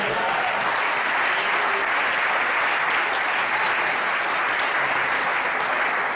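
Sustained audience applause fills a church, dense and steady clapping from a large crowd throughout, loud and unbroken with no voice on top.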